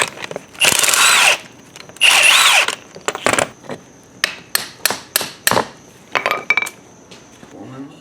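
An impact or air tool works on the pitman arm and center link of a third-generation Camaro/Firebird's steering: two long loud bursts, then a quick series of sharp hammering blows with short pauses, close by and without talk.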